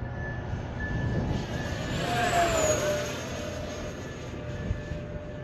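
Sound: FMS F18 64mm EDF model jet flying

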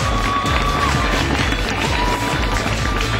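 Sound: audience applauding and cheering

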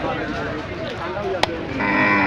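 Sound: cattle, lightly crossbred local bull

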